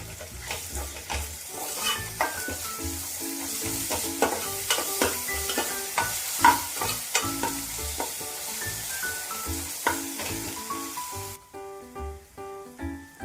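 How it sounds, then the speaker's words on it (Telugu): Ginger garlic paste sizzles in a pan for a mutton curry while a spoon stirs and scrapes repeatedly, close and fairly loud, with clinks against the pan and no talk. "హాఫ్ టీ స్పూన్ పసుపు, అల్లం వెల్లుల్లి పేస్ట్ పచ్చివాసన పోయే వరకు వేయించుకున్నాము."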